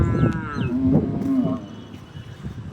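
Cattle moo loud and close at the Aranthangi cattle market, with one long deep low bellow over a noisy crowded outdoor market background.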